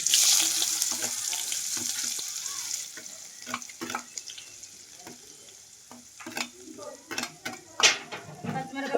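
Onions dropped into hot oil with cumin seeds sizzle at first, then turn into a quieter crackle broken by scraping stirs and clinks of a spoon against the pan, with no voices.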